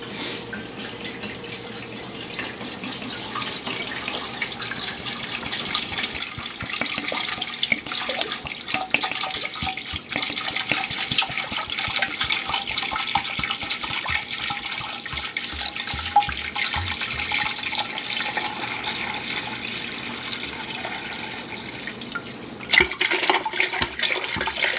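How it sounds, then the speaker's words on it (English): About a gallon of water pouring into a pot holding chicken feet and a chicken head for stock, a continuous rushing, splashing flow heard alone and fairly loud, easing briefly near the end. "we're going to cover with, as I said, about a gallon of water,"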